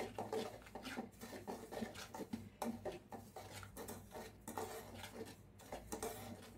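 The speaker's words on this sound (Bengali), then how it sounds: "আমি ঘিয়ে ভাজা ভাজা করে নিলাম যাতে সুজিটা থেকে একটা ঘ্রাণ বের হয়।" Semolina stirred and fried in ghee in a pan makes faint, repeated scraping and clinking strokes of a spoon against metal, over a soft background sizzle.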